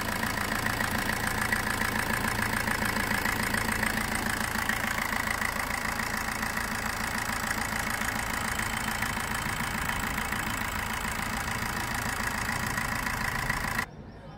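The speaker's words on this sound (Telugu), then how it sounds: "ఇంజన్ కూడా స్మూత్గా ఉందండి" A 2013 Maruti Suzuki Swift VDI diesel engine idling in good condition, a steady, even mid-pitched drone with a faint rhythmic clatter, continuous and close until it cuts off abruptly just before the end.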